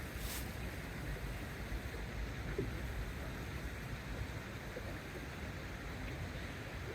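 A river flowing some distance downstream of a waterfall, heard as a steady, dense broadband rush of moving water with constant loudness throughout and no talking.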